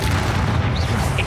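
A Confringo spell blast fired in the video game Hogwarts Legacy, a dense booming rumble that fills the whole short moment at steady loudness, with no voice over it.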